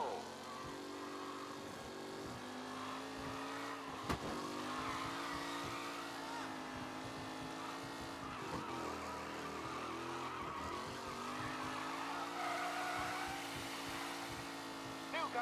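Race cars from the video game Mafia: Definitive Edition roar along the track, engines droning and shifting pitch with tire squeals and skids, steady and close, while a race announcer talks over them.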